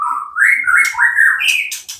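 A magpie robin sings a bright run of clear whistled phrases, rising and shifting in pitch, close and loud with no voices.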